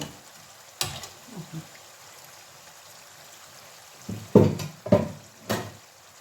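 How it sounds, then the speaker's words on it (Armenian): Garlic frying in a generous amount of oil for Armenian suti tolma, a steady soft sizzle broken by a few sharp stirring clatters, with no talking. "շատ ուսա յուղ ենք լցնում, դե թողնենք տապակվի"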